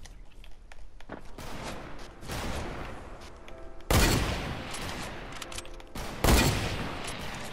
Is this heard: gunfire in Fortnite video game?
yes